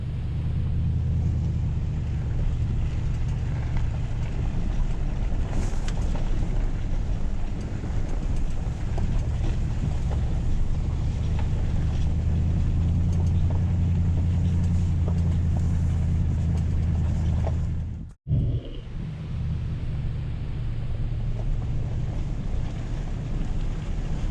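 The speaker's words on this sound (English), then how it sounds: "I'm just driving down this road looking for a campsite" A car drives down a forest road in wilderness, a constant low rumble of engine and road noise heard from inside, with a brief dropout near the end.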